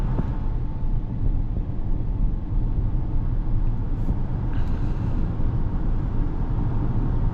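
Steady low interior road rumble and engine hum inside a 2026 Acura MDX A-Spec while driving, continuous and fairly loud, with a faint higher whine near the middle and no talking.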